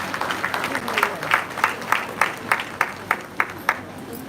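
A seated ceremonial audience at a university meritorious service award day gives a round of applause for the University Registrar, the clapping swelling into evenly spaced bursts over about four seconds, fairly close and moderately loud.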